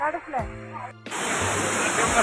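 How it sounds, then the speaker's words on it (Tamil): Kempty Falls in Mussoorie pours as a loud, dense wash of white noise that sets in suddenly after a brief moment of talking, then roars on steadily. "ஸோ இதான் கெம்ப்டி ஃபால்ஸ்"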